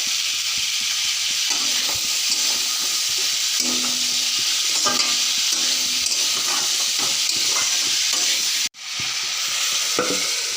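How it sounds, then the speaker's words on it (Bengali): Sojne data (drumstick) curry with green chili paste is stirred in a hot pan, a steady close sizzle with soft scraping strokes throughout and one brief dropout near the end. "ভালো করে নাড়াচাড়া করে নিব"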